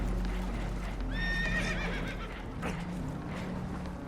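Spooked horses in Red Dead Redemption II whinny shrilly aboard a holed, sinking boat. A single rising-and-falling neigh stands out over a low, steady rumble of water and movement, with hoof clatter mixed in.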